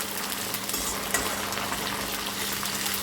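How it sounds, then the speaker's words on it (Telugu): Curry leaves frying in oil after peanuts were taken out, giving a steady close sizzle with faint stirring and no talking. "పల్లీలు తీసి పక్కకు పెట్టిన కరివేపాకు నూనెలో వేసి వేయిస్తే మంచిగా అవుతుంది"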